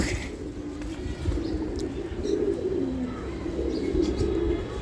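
Racing pigeons coo in soft, low, repeated rolling calls from a cage nearby, with a few faint chirps and light background noise.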